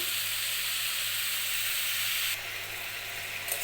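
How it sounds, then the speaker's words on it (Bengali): Bottle gourd pieces with turmeric fry in a pan, producing a continuous soft sizzle and steamy hiss, fairly faint and steady, with a slight shift in texture partway through. "আগে একটু ভেজে নেব"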